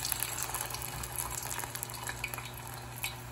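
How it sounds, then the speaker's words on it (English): Shoestring potatoes deep frying in hot oil: a steady, dense crackling sizzle with fine bubbling pops throughout, close and moderately quiet, with no talking. "I'm gonna deep fry these babies."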